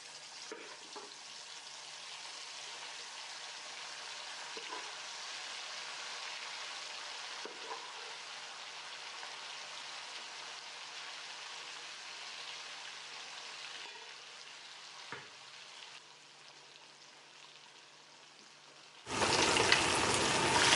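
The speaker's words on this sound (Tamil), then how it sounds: "இப்போ மீன் வறுத்துக்கலாம்" Chettinadu-style spiced fish fries in a pan with garlic, a long, steady, close sizzle with a few faint clicks, then a sudden louder burst of hissing near the end, no voices.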